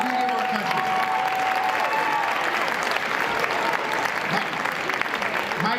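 An audience at a political event for a presidential candidate breaks into sustained applause, a dense, loud wash of clapping with faint cheers and some voices mixed in.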